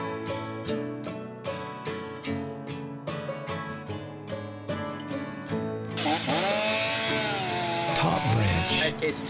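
Chainsaw cutting a face notch in a standing tree during open-face felling, the engine first revving in short bursts and then biting into the wood with a sustained loud whine that bends in pitch, heard up close.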